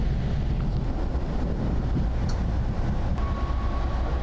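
A train arrives at Gupo station in Korea, a steady, loud rumble of rolling wheels and wind noise throughout, with a faint high tone near the end.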